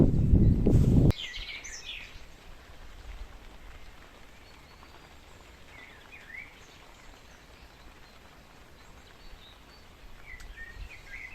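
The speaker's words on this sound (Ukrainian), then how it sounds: "Тож буду насолоджуватися природою і співом пташок" Birds chirp faintly in short, scattered calls by the Southern Bug river in rain and high water, heard over a steady hiss after a brief loud burst at the start.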